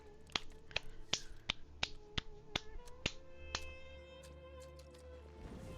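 Someone snaps their fingers about a dozen times to mimic a lone, awkward clap in the video game Genshin, sharp close snaps in a fairly even rhythm that thin out toward the end.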